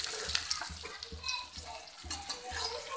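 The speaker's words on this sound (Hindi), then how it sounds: "ये हमने अनियन और ग्रीन चिली को ऐड कर दिया है। अब हम इसे फ्राई करेंगे।" Onion and green chili frying in a pan for Indian-style masala pasta, with a steady close sizzle broken by repeated stirring scrapes roughly every half second, loud and without talk.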